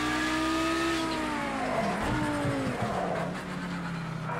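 A race car on an outlap in a sim racing game, its engine droning steadily with rising and falling revs through gear changes, loud and close over constant road noise.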